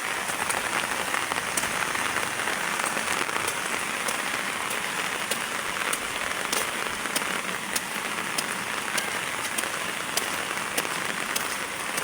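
Steady rain pattering on surfaces in Ban Kud Hin village, a dense even hiss with scattered sharper drops throughout, constant and close.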